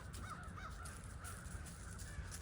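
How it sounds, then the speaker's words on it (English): Crows caw repeatedly at a moderate distance, several harsh calls overlapping against a low outdoor rumble. "So many crows."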